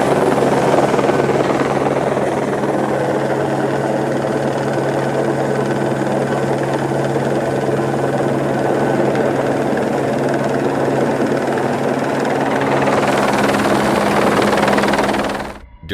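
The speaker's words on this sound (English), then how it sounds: "a helicopter was brought in to assist with lifting and positioning" A helicopter hovers steadily overhead, lifting and positioning a seven-story Christmas tree structure during construction, its loud, continuous rotor and engine roar holding constant before cutting off abruptly at the end.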